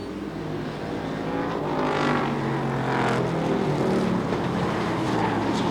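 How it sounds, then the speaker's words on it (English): A short-track race car engine drones loudly and continuously at a super short track event, the roar swelling slightly as cars pass, with no voices over it. "Sean Stone trying to get the feel of a race car."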